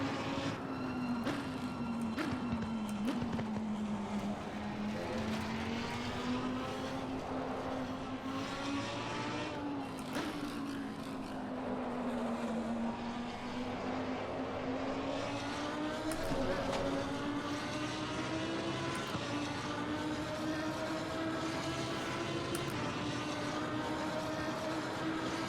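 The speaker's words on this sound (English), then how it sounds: "Just hearing that punch and the upshift and the downshift, like the downshift that backfires brutal." A race car engine in Assetto Corsa Competizione drones steadily, rising and falling in pitch as it shifts up and down, with occasional sharp pops and cracks from backfires on downshifts.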